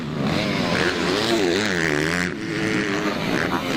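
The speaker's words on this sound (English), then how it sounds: "Here's Justin Brayton on the 450 Yamaha." Supercross dirt bike motorcycles, including a 450 Yamaha, race with a steady, loud engine drone that rises and falls in pitch as the bikes pass.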